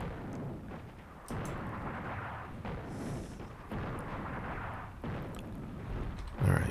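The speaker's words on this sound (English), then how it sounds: "Let's hit them with some artillery here." Artillery fire in the PC strategy game Attack at Dawn: North Africa: several deep, booming blasts spaced a second or so apart, each with a rumbling tail, plus a sharp thud at the end, moderately quiet.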